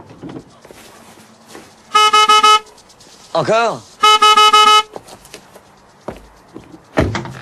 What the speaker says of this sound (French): Klaxonnez.